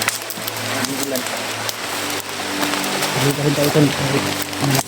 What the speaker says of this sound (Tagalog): Lakas na ulan talaga.